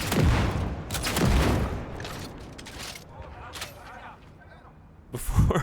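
In a video game, a double-barreled revolver fires booming shots, loud and near, with a heavy blast at the start and another near the end, while a voice talks.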